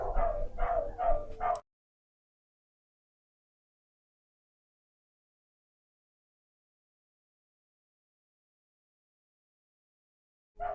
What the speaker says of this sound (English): Dogs are gonna be barking